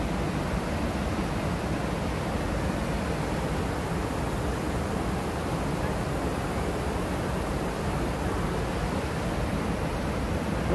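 Water from the Boqueirão reservoir on the Riacho do Sangue in Solonópole, Ceará, Brazil, spilling over the spillway after heavy filling, a steady broadband roar of rushing water, loud and unbroken throughout.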